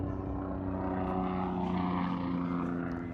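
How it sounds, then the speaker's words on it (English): A helicopter passes overhead with a continuous droning rotor and engine hum that stays loud and steady throughout, with no talking. "helicopter flying."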